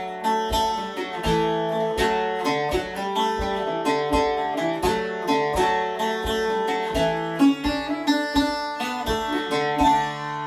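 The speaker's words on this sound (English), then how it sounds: "this one over here is called the bouzouki." A bouzouki, a long-necked string instrument like a big mandolin, played solo in a steady run of bright, rapid plucked notes and strums with a busy, rhythmic melody and no voices.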